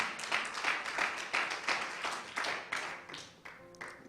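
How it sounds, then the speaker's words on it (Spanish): Church congregation clapping together, a dense, continuous burst of hand claps from a crowd indoors that holds steady for several seconds with no clear speech. "denle un aplauso fuerte al Señor en eso."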